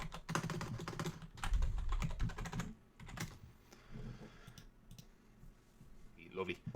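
Computer keyboard typing and mouse clicks come in quick bursts of close, crisp taps, with brief pauses between clusters and light background noise; no words are spoken.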